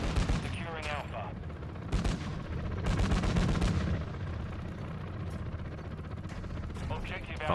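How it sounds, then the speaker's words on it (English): Chopper gunner firing in the Call of Duty MW2 beta, a sustained rapid barrage of loud gunfire with heavier booming bursts, layered over dense battlefield noise throughout. "the chopper gunner sounds really good too"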